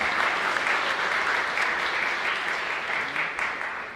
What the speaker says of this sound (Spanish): Un fuerte aplauso también para ese Miguel.